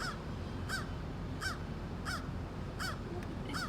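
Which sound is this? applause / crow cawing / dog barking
crow cawing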